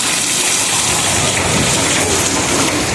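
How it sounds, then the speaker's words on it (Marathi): Heavy rain pours steadily and loudly, a dense continuous hiss of drops with no voices, filling the whole scene evenly throughout. "बाहेर बघा भरपूर असा पाऊस चालला आहे"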